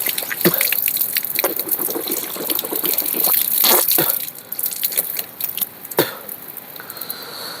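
Tap water gushes and splashes as a face is washed and a mouth rinsed, loud and close, with repeated swishes and splatters and brief pauses, no talking.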